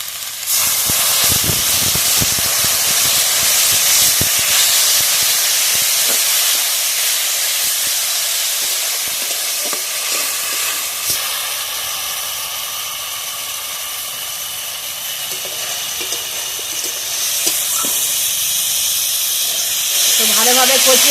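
Water poured into a village-style fish curry with turmeric and green chillies hisses and sizzles loudly and steadily in the hot pan, a constant close steam hiss that softens slightly midway and flares again near the end.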